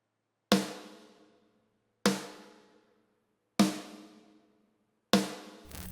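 Basic snare drum pattern from a Get Good Drums One Kit Wonder sample kit for a shoegaze beat: four loud, evenly spaced snare hits, each ringing out with a long decaying tail before the next strike.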